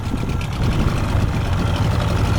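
A 1989 Yamaha Mariner 30hp outboard motor runs on a boat, missing and dropping cylinders, giving a steady, loud, rough low drone with uneven pulsing throughout.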